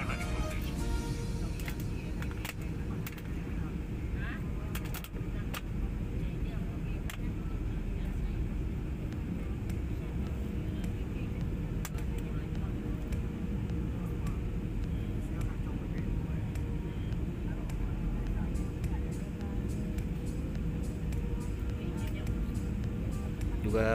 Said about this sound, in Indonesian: Beberapa saat lagi pesawat akan mendarat ya di Bandara Raden Sajat